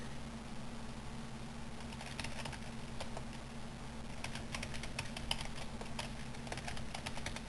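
Irregular clicks of typing on a computer keyboard during a computer tutorial, close and fairly quiet, running in scattered bursts over a steady low electrical hum with no speech.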